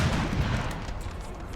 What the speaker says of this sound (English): The fire continues.